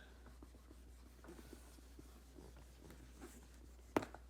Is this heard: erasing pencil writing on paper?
yes